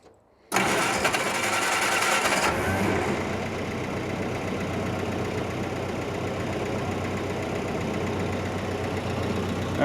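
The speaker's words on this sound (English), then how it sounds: "hold the clutch in, but still have this in neutral and start up the engine" A flatfender Jeep engine starts with a sudden burst and then settles into a steady, rough idle in neutral with the clutch held in, loud and close with no talking.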